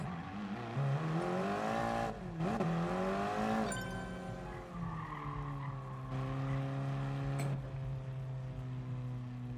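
Race cars in Gran Turismo Sport drive by with engine tones that rise and fall as gears shift, holding loud steady revs before settling into a sustained drone.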